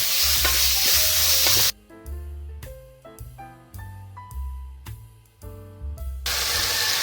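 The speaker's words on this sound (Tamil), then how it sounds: "இதோட கொஞ்சமாக உப்பு, வெங்காயம் கொஞ்சம் வதங்கட்டும்" Onions with a little salt sauté in a pan with a bright, close sizzle. The frying is loud at the start, drops out under background music in the middle, and returns at the end.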